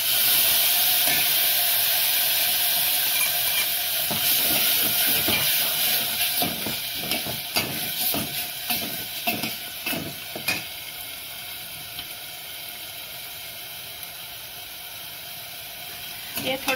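Ground green spice paste hits a hot pan for dahi kadhi, giving a steady hiss and sizzle with brief crackling bursts that gradually settle, no talking over it.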